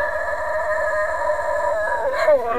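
A dog howls along to music in a long wavering, singing note that rises and bends near the end, loud and close over a steady rhythmic backing beat.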